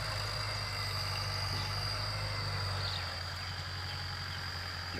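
A farm tractor idles steadily nearby after tilling a rice field for jasmine rice sowing, its low engine rumble continuous and loud throughout with no talk.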